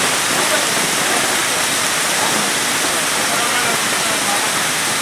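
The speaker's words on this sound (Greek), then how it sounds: "Άκου τον ήχο που κάνει που το τραβάει το νερό." During a hailstorm, water rushes loudly as it drains away, a dense, unbroken roar of flowing water that stays constant from start to finish.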